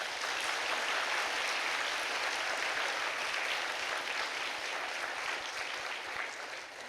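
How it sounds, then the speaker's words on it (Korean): A church congregation at a Sunday afternoon service claps together in a steady, fairly soft, sustained round of applause that tapers slightly toward the end. "다시 한번 박수로 축하하겠습니다."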